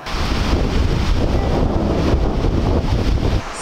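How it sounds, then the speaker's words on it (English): Strong wind gusting outdoors across a backyard living space, a loud continuous roar buffeting the microphone with no voices. "it's windy today."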